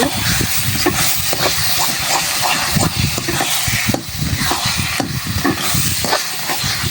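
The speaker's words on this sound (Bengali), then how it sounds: "লেবুর রস দিয়ে আর একটু নাড়াচাড়া করে কিছুক্ষণ জাল দিয়ে মিক্স করে নেব।" Kochu flowers with lemon juice stirred in a hot pan, a continuous sizzling hiss with scraping strokes of the spatula recurring steadily throughout, close and loud.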